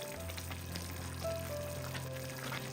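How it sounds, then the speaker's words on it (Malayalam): Crushed peanuts go into a pan with a thickened simmering mixture, giving a faint, steady sizzle with soft shifting crackles. "ഇനി ഇതിലേക്ക് നമ്മൾ ക്രഷ് ചെയ്ത് വെച്ചിരിക്കുന്ന നിലക്കടല ചേർത്ത് കൊടുക്കാം."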